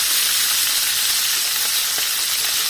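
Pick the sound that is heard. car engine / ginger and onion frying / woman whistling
ginger and onion frying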